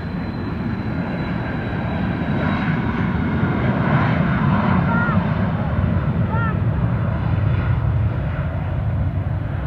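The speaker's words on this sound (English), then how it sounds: "Boeing 737, operated by Southwest Airlines" A Southwest Airlines Boeing 737 jet at Austin Bergstrom International Airport gives a loud, continuous engine roar that holds steady throughout, with wind buffeting the microphone.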